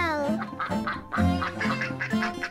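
Cartoon ducks quack in quick, loud bursts near a pond-side duck hotel, the calls tumbling over one another.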